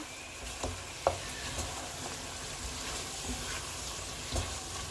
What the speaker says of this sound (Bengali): এভাবেই কষিয়ে নিতে হবে আস্তে আস্তে